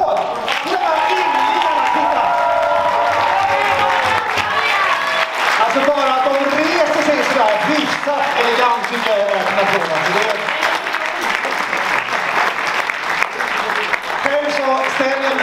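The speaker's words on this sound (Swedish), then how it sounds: "Stå mot en applåd!" Steady applause from a standing concert audience fills the whole stretch, dense and continuous, with crowd voices and cheers mixed in and talk over the top.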